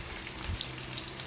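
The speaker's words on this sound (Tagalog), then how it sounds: "Ang lakas ng ulan." Heavy rain falls steadily, a dense even hiss of drops with no voices, constant throughout and fairly close.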